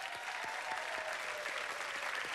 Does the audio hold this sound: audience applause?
yes